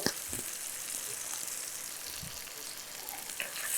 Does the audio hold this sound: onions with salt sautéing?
yes